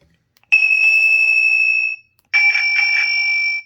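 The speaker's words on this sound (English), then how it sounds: "like the old school bell, little beep, chimes" A Burromax mini bike's small electronic horn rings twice, a long bright bell tone followed by a short pause and a second, pulsing ring, loud and close.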